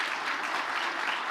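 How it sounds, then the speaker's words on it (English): An audience applauding, a dense steady burst of many hands clapping together, moderately loud and heard alone for a brief stretch. "Like, who's clapping for that, bro? Why would you clap?"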